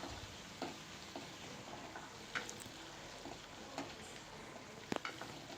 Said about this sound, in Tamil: இப்போ வெங்காயம் பூண்டை நல்லா வதக்கி விட்டுக்கலாம்.